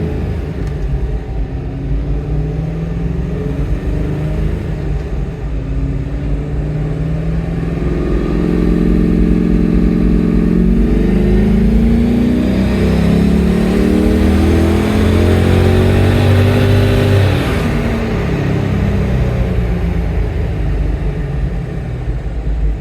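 Toyota Hilux Workmate, two-wheel drive, with an LS V8 swap, revving hard on a run: a loud, deep engine roar that climbs in pitch through the middle and then falls back, with no talk over it.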